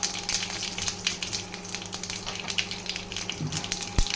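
Mustard seeds, cumin, sesame and curry leaves sizzle and crackle in hot oil, a close, continuous frying hiss full of small pops, ending on one sharp louder crack.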